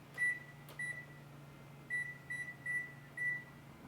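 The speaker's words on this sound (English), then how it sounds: "I'm going to set my timer." A kitchen timer being set next to an oven while meatloaf cooks gives a run of short, high electronic beeps, about six in uneven spacing, over a low steady appliance hum.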